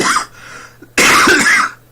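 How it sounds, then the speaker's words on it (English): Coughing from a person, one short rough cough and then a longer, louder harsh cough burst, close and prominent over a quiet background. "This cough is ridiculous."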